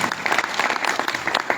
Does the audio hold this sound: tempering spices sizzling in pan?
no